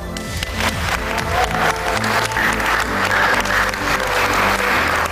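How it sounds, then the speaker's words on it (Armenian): Children clap together in a classroom, a dense, steady round of applause that stays loud and close for the whole stretch with no voices over it. "Ճիշտ է, մի հատ եկեք ծափահարենք։"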